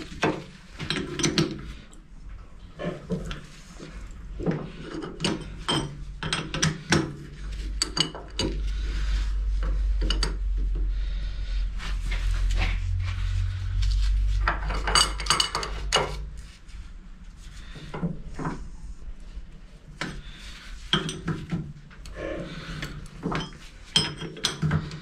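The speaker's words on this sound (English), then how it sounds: "So we'll have to do it with the old spanner." Spanner working a bolt on the footwell of a 7.25-inch gauge steam locomotive: scattered metallic clinks and ratcheting knocks, with a low rumbling stretch in the middle, close and fairly faint.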